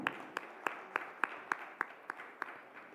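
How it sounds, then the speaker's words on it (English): A lone person claps slowly and evenly, about ten claps spaced roughly a third of a second apart, faint and somewhat distant in a quiet hall at a business summit. "Let's have a round of applause."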